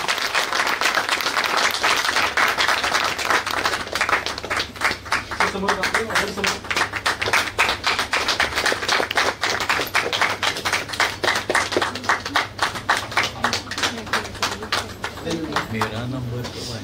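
At an award ceremony, an audience applauds a prize winner with dense, steady clapping that lasts throughout. The clapping is loud and sustained, with a voice faintly mixed underneath.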